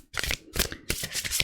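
Oracle cards being shuffled in quick, crisp riffling bursts, close and clear, with no talking.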